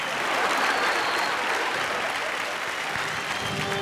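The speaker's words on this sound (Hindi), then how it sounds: "तालियां।" Audience at a Filmfare awards show bursts into dense, steady applause, a loud wash of many hands clapping together throughout the short stretch.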